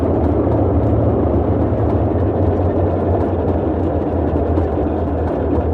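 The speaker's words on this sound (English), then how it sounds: "engines are wanting to die again" Boeing 247D aircraft engines in a flight simulator game, a steady, loud, low droning rumble with a dense broadband roar and no clear sputtering breaks, heard without talk.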